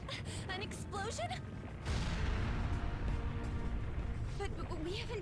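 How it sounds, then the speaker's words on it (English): An explosion in the video game Persona 5 Royal erupts partway through as a sudden loud, rumbling blast that keeps roaring, following chirpy character voices and game sounds. "An explosion?"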